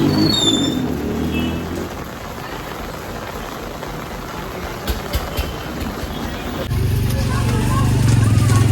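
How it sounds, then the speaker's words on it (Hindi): Heavy rain pours down in a steady loud hiss, with a brief spell of sharper drops and a swell of louder downpour near the end. "इतनी तेज बारिश हो रही है"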